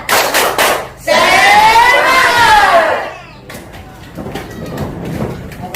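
Classroom students do a spirit clap chant: quick rhythmic hand claps, then a loud unison shouted chant from the group, followed by more scattered clapping, all close and lively.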